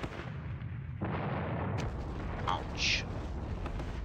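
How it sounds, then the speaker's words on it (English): A machine gun fires in the World War II strategy game Squad Battles at the Ponyri battle, short booming bursts with a bright crackle. A voice briefly speaks during the firing. "This is a machine gun up there. Let's maybe fire at that."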